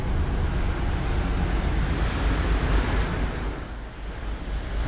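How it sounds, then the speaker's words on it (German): Ocean waves and wind rush steadily past on a ferry crossing to Rosslare, a broad continuous roar with wind buffeting the microphone and no speech. "Oder sind es die Wellen gewesen?"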